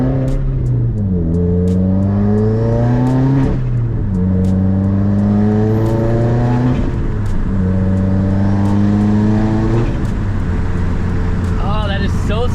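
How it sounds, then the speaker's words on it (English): A turbocharged Subaru WRX engine revs repeatedly in rising and falling pulls, with sharp fluttering bursts from the blow-off valve between them, loud and close. "once we put the blow-off valve, it sounds so good"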